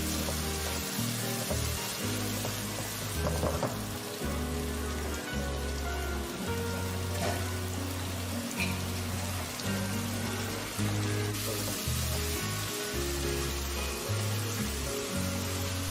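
Ground spice paste frying in a pan for an Indonesian anti-cholesterol dish, giving a steady, close, rain-like sizzle that runs unbroken throughout, with low background tones underneath and no talking.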